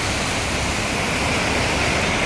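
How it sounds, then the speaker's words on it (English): Rainwater draining away after a heavy rainstorm in Makkah, heard as a constant loud broadband rush like a stream or small waterfall, steady and close with no voices. "The water is actually draining down."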